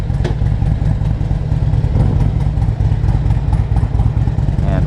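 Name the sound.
Harley Davidson Ultra Classic Electric Glide motorcycle engine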